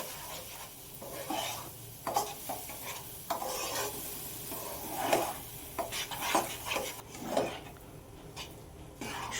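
Semolina and palm fruit pulp being stirred together in a pan, with repeated scraping and sliding strokes over a soft sizzle and occasional light clinks, close and steady with no voices.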